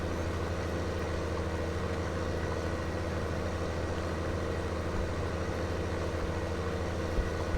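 A tractor fitted with a chrome straight pipe idles in Farming Simulator 19, its low engine rumble steady and unbroken with a faint rhythmic throb throughout.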